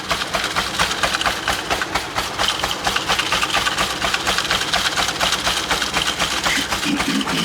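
A turbocharged 2.3-litre car engine idles steadily with a fast, even ticking pulse and a low running hum, close up and alone with no talk.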